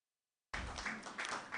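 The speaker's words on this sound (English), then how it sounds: "A round of applause again for our amiable speaker" Applause for a speaker at an economic re-engineering conference starts suddenly after a moment of silence, a soft, steady patter of many hands clapping at a distance.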